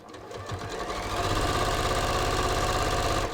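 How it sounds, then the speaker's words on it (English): A sewing machine runs steadily, stitching ready-to-wear pants beneath a pocket. It starts up and then keeps a fast, even mechanical chatter at close range throughout. "I'm sewing underneath my pocket"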